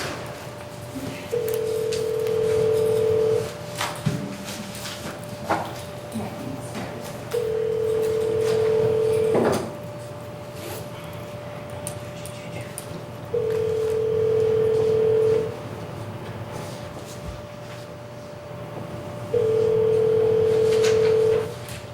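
A telephone dial tone sounds in steady, evenly spaced beeps, four long tones with pauses between them while a call is placed, loud and clear over a faint hum, with no one speaking.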